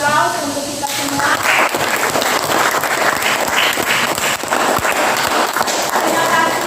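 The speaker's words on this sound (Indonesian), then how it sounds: "Mari kita berikan aplaus untuk kita semua" A classroom full of students applauds together, producing dense, loud, continuous clapping that runs steadily throughout.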